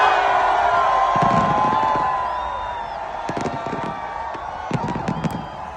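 New Year fireworks at Dubai Frame, with a large outdoor crowd cheering and shouting loudly, then scattered sharp bangs and crackles rising over the fading crowd noise.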